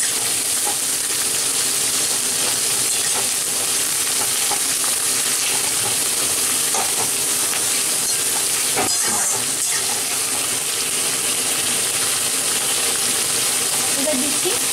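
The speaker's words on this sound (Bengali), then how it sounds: "তেলে একটু এটাকে নাড়াচাড়া করে নেবো 1-2 মিনিট" Mutton and sliced tomato frying in oil in a pan, a steady loud sizzle throughout with occasional scrapes and clinks of stirring.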